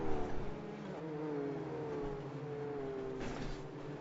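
Race car engines drone and whine steadily at low speed under a safety car in an iRacing sim race of the iFormula League at the Italian Grand Prix, a continuous smooth hum with shifting pitch.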